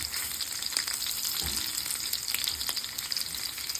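Pork tocino fries in a pan with a steady, close sizzle and crackle that holds at an even level throughout, with no voices.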